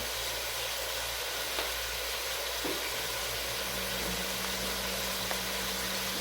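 Meat for soup sautés in a pot with a steady, loud hiss of sizzling and a low continuous hum beneath it, close and unbroken, with no talk.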